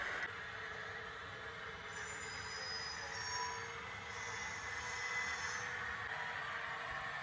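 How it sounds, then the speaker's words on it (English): A model Union Pacific reefer train rolls along a layout steadily with a continuous rumble and thin metallic squeals rising over it, close and unbroken throughout. "I got the chance to operate one of the trains"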